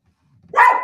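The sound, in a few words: dog Roscoe barking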